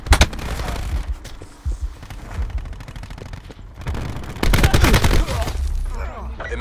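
Bursts of video game gunfire rattle in close, loud volleys, with a heavy stretch at the start and a more sustained barrage later, separated by quieter gaps of combat ambience.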